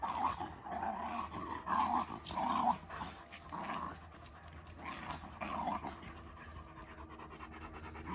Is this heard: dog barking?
yes